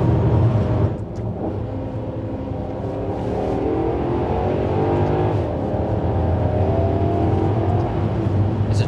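A 2014 Maserati GranTurismo Sport engine revs freely and keeps pulling, a loud, sustained, rising drone close up with a brief dip near the start and no talking over it.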